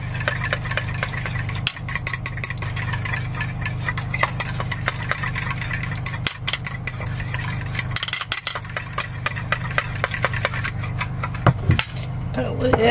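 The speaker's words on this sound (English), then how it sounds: "Just gonna mix it all up." Utensil stirring ingredients in a pan while cooking inside an RV, scraping and clinking in irregular bursts over a steady engine-like hum, with no talking.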